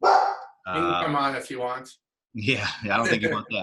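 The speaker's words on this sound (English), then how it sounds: "That's my dog in the background." A pet dog barks in the background at home, short yelping bursts mixed in with someone talking nearby.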